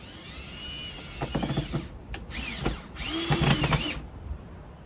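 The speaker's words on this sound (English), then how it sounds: "Put a screw in it for now, just to hold it up there so I can get it locked in place" A power drill drives a screw into a deck ceiling board in several close, whining bursts that rise and stop, with short pauses between them.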